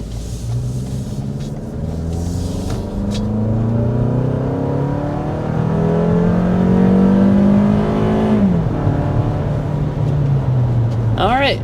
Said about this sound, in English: we want to go ahead and start with a hard acceleration